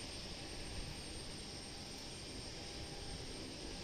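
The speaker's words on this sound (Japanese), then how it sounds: "あ、着陸機がやってまいりました。" An Airbus airliner arriving from Tokyo Haneda lands at Osaka Itami Airport, its jet engines producing a steady, broad roar at moderate distance, continuous and without voices.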